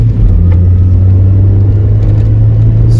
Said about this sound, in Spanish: Vamos a acelerar.